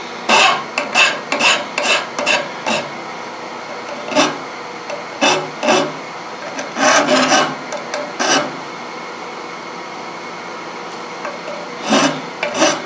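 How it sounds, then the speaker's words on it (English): Coarse half-round bastard file rasping flash from cast aluminum edges, in repeated bursts of strokes with short pauses, close and fairly loud with no talk. "This file I'm using is called a half-round bastard file, and it does a really good job on aluminum."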